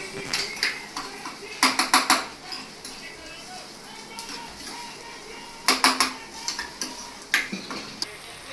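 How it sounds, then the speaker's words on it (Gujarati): Onions for a Gujarati drumstick-leaf bhaji are stirred in a pan until brown, with loud metallic clinks and quick clusters of utensil taps against the pan over a faint background. "થોડી વાર છે ને બ્રાઉન કલર થાય ને ત્યાં સુધી હલાવશું"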